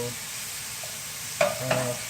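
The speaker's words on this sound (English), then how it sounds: "I'm not frying all of it at the same time, because I want to brown the ground meat" Ground beef sizzles softly in a pan with a steady frying hiss as it browns, broken by a couple of scraping stirs near the end.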